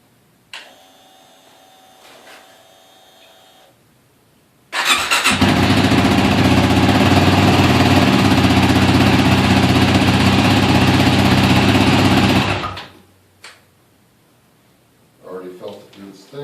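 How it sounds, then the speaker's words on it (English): A Yamaha WR250R motorcycle, a 2008-or-later model, cranks and fires up, then runs loud and steady at idle for about eight seconds up close before the engine is cut, with faint clicks beforehand and a brief voice afterward. "Let's start her up."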